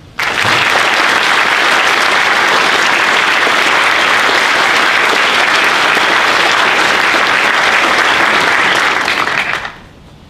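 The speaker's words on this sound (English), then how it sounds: "Round of applause." Applause at a Navy change of command ceremony for the USS Henry M. Jackson in Keyport: a dense, steady round of clapping from a large audience holds at full volume for about ten seconds, then stops abruptly.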